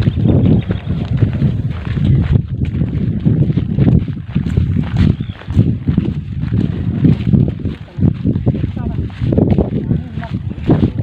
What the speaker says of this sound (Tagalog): Ang lakas ng hangin sa taas oh.